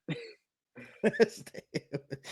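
Several close coughs come in short bursts, separated by a brief pause, with no talking.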